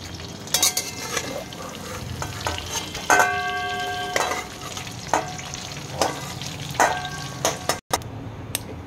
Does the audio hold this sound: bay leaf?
yes